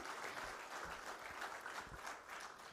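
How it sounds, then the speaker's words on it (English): Audience applause at a stock exchange listing ceremony for Positron Energy Limited, a steady, fairly quiet wash of clapping that runs without a break. "So I request the audience to give him a huge round of applause"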